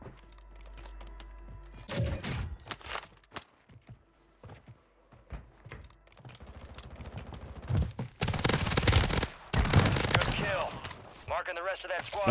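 Bursts of automatic fire from the BAS-B rifle in Warzone 3, with sharp rapid shots clustered in several volleys, mixed with mechanical clicks and someone talking at times.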